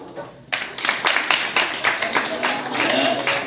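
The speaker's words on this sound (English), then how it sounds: "If you're in your 30s and up, clap." Comedy club audience at a stand-up show clapping and cheering in a burst of applause that swells and stays loud for a few seconds, with crowd voices mixed in.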